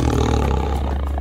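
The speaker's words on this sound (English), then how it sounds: "Tiger. The largest living cat species that has dark vertical stripes on its body." Tiger roaring, one sustained low growling roar heard close and loud throughout the short stretch.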